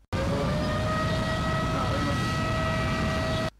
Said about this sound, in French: Ce bruit continu et fort sonne la fin des épreuves de cette première journée de composition.